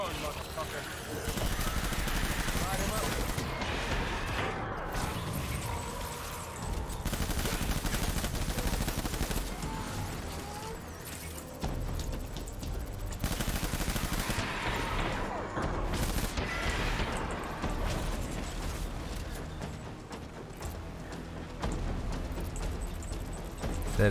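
Video game gunfire in Tactical Strand Action crackles in bursts of rapid shots and machine-gun rattles, with loud stretches broken by short pauses amid busy background noise.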